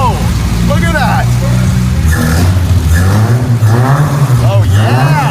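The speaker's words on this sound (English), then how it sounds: "Let's start the car." The engine of a revived junkyard 1969 Ford Mustang Mach 1 roars loudly and close by, revving up and down in rough surges while excited people shout over it.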